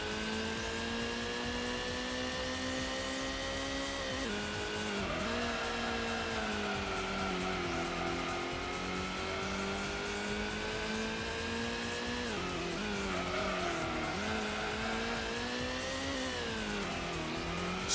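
A race car engine in the Gran Turismo video game drones loudly and steadily at high revs on the Grand Valley circuit, its pitch dipping and climbing through gear changes across a long continuous stretch.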